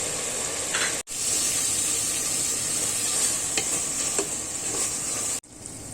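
Tomatoes and dry spices cooking in a pan for kaleji salan, a steady soft sizzle with a couple of brief stirring scrapes, fairly quiet and with no voices.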